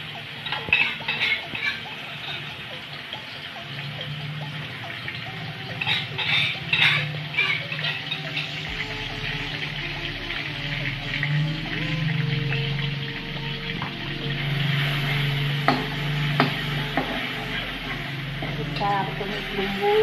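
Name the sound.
spice paste frying and being stirred in hot oil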